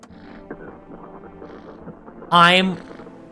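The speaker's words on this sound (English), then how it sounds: "I can talk to the cat." A cat meows once in the video game No, I'm Not a Human, a short bright call rising clearly above a quieter bed of game ambience and soft background sound.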